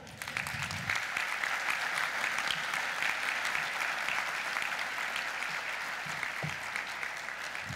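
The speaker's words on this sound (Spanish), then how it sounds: "Un aplauso, por favor." An audience at an international free-trade-zone congress applauds steadily for about eight seconds as a dense wash of clapping with no speech over it.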